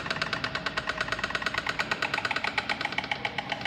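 Storks in the town of Eguisheim, France give an eerie, rapid rattling clatter, a dense run of quick pulses at moderate distance lasting a few seconds.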